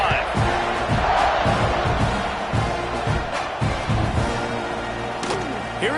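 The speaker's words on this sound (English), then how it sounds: "this crowd is feeling themselves after that last drive" An American football stadium crowd roars during a kickoff, a loud continuous wall of cheering with rhythmic thumps and bursts of whoops, while a commentator talks over it.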